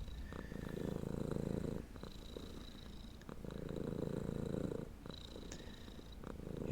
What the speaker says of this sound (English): If I take my cat here that is purring into the microphone rather loudly.